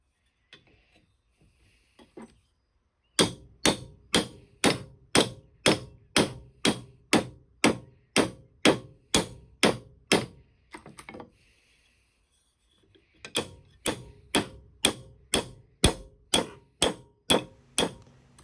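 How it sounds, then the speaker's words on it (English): A hammer strikes a plane iron resting on an anvil in a steady rhythm of sharp metallic blows, about twenty in one run, a short pause, then another run of a dozen or so, close and clear. "the way I'm using the hammer on that anvil is I'm striking it while moving the hammer back towards me"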